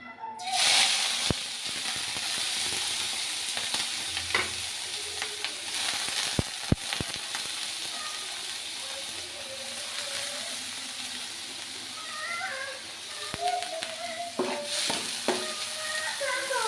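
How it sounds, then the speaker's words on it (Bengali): Dried chillies fry in hot oil in a pan for a chilli-and-shrimp mash, giving a steady close sizzle and hiss with occasional stirring scrapes throughout. "আর এটার সাথে দিয়ে দেবো এখন শুকনো মরিচগুলো।"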